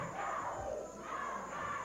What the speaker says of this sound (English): You can hear the crowd picking up a chant.